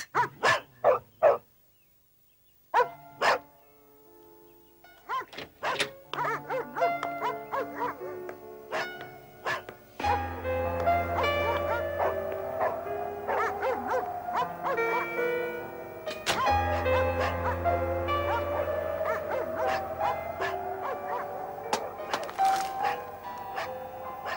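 Several dogs bark indoors in sharp bursts at first, then keep up a denser stretch of barking and whimpering over a ringing, musical background, with faint voices in places.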